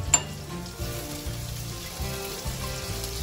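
Onions frying in a pan with garlic, cooked to light brown for a potato and bean dish, sizzling steadily under a low rumble of background music-like tones, no talk heard.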